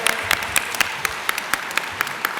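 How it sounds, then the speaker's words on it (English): An audience at a Power Rangers convention panel applauds, with scattered claps standing out against a steady wash of clapping through the short stretch. "Can I get a round of applause for Eddie and Maddie?"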